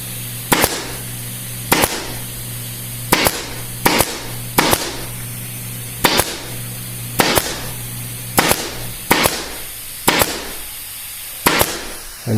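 Sharp, loud single snaps of a staple gun firing half-inch staples into webbing on a wing chair being reupholstered, about a dozen shots spaced unevenly with brief pauses between.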